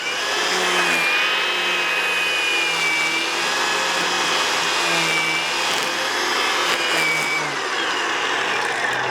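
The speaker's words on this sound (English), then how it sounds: "So I'll just show you some footage of the string trimmer." An Ego battery-powered string trimmer runs steadily and loudly on its own, a continuous whirring motor whine with a constant high tone holding throughout.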